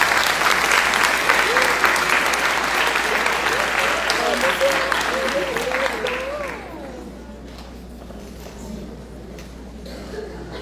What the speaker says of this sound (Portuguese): Palmas para o Bruno.